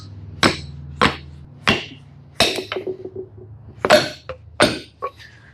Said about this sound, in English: just take the back side of a hammer.